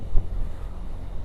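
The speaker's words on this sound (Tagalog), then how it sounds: "Maambon-ambon at malakas ang hangin." Strong wind buffets the microphone while riding a Honda Genio scooter in drizzly weather, a continuous low rumble with gusty swells over about a second.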